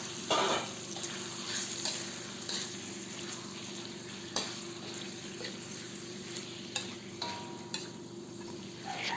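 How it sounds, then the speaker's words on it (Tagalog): Cut chicken pieces sizzle and fry in a pan for Filipino adobo, with a steady crackling hiss and occasional stirring clinks, fairly close. "habang ginigisa natin ang manok"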